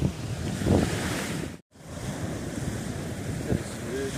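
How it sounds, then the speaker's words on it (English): Morning surf washes onto a beach under heavy wind buffeting the microphone, a steady close roar with a brief dropout and faint voices in the background. "we're at a different beach this morning"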